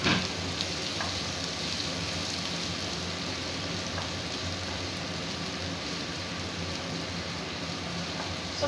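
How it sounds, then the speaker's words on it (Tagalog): Onion and garlic sauté in a pan as the base for chicken with potatoes and carrots, giving a steady, dense sizzle like light rain that holds level from start to finish with no talk. "Gigisa lang natin yung sibuyas at saka bawang"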